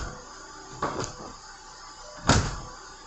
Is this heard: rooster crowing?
no